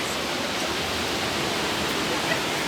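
Waterfall in Kieni forest in Gatundu, a steady, dense rush of falling water that fills the whole stretch evenly and loudly, with no talking over it.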